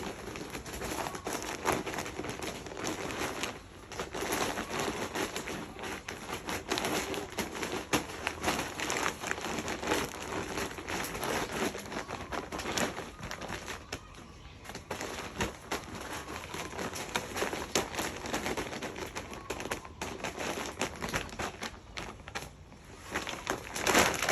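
Coconut coir potting mix for variegated banana plants being stirred and mixed by hand, giving a soft, continuous rustling and crunching with irregular crackles, fairly quiet and steady throughout.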